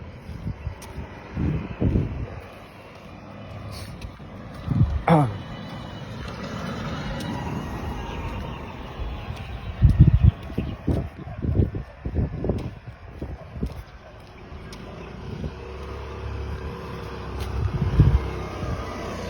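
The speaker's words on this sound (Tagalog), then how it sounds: "Sasakyan." Vehicles pass on a road during a morning outdoor walk, their rumble swelling and fading several times amid steady wind buffeting the microphone, with occasional distant voices.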